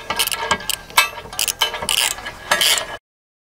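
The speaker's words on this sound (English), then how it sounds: "Then just take your wrench and tighten them up." Ratcheting wrench tightening the threaded mount bolts of a Rotopack, close, loud bursts of quick clicking strokes separated by short pauses, ending in silence.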